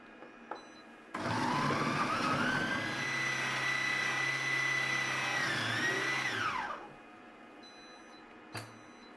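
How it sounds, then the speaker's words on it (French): A Compact Cook Elite food processor chops peeled apple pieces for kimchi, a steady loud whirring motor drone running about five seconds, then stopping, with a faint click afterward. "lançons de nouveau la fonction hacher avec un temps de 20 secondes"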